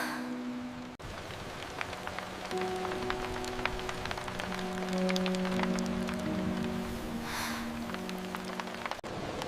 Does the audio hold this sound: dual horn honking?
no